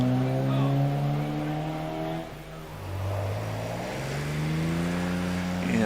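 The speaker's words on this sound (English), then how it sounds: "Ian Steinburn in the coupe version of the Renault Reliant Scimitar 3-litre machine" A Reliant Scimitar 3-litre coupe racing up the Prescott hillclimb course, its engine note rising and falling through gear changes at a steady distance, with a commentator talking over it.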